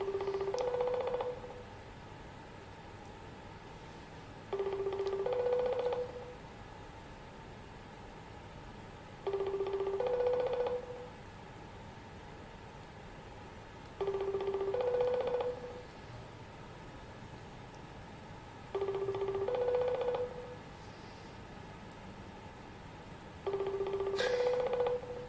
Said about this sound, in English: I'm calling him.